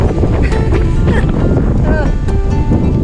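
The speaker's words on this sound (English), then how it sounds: "here it's just windy" Strong, steady wind roars against the microphone outdoors on a motorcycle trip, a continuous loud rush with a person talking over it.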